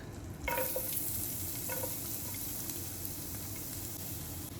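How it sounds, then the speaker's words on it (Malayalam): Garlic sizzles in two tablespoons of butter in a hot pan, a steady close crackle that swells when the garlic goes in, with a few brief scraping stirs over the continuous frying hiss. "ഒരു പാന് ചൂടാകുമ്പോൾ അതിലോട്ട് 2 ടേബിൾ സ്പൂൺ ബട്ടർ ചേർത്ത് കൊടുക്കാം. ഇതിലേക്ക് വെളുത്തുള്ളി ചേർത്ത് കൊടുക്കുന്നുണ്ട്."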